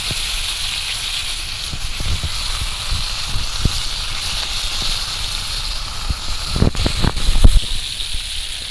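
Pangas and tangra fish fry in hot oil, giving a loud, close, steady hissing sizzle with scattered pops and a burst of crackling near the end, with no voices.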